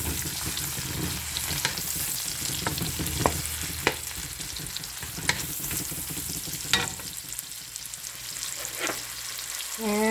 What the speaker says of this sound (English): I'm going to saute that with lots of onions